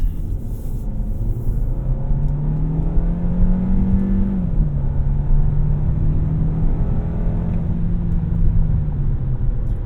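A 2023 Kia K5 GT-Line sedan accelerates at highway speed, its engine drone rising steadily in pitch, dipping briefly at a shift and climbing again over constant road and wind rumble, loud from inside the cabin.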